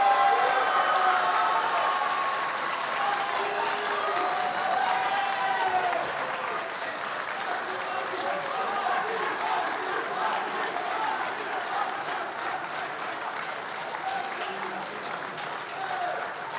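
Sustained applause from the audience at the final of a funeral-industry masters of ceremonies eloquence contest in Paris, a broad, steady roar of many hands clapping for a contestant, with murmured voices and faint cheers mixed in throughout.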